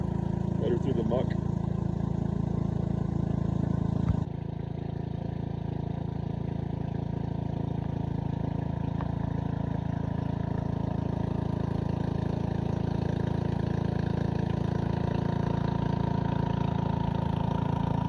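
The small outboard motor on a Slidercat catamaran drones steadily while pushing through shallow muck, a constant low hum with a slight drop in level early on and no break.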